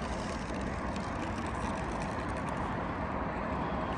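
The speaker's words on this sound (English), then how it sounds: "Familiar sound of the highway." Steady, distant roar of highway traffic near the Delaware Water Gap: a continuous broadband wash of passing vehicles with no breaks, heard outdoors with no voices.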